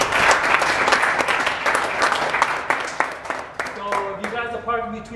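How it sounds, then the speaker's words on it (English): Loud audience applause for Invest Detroit at a tech meetup, dense clapping that tapers off near the end as a voice begins speaking. "Let's give them a round of applause."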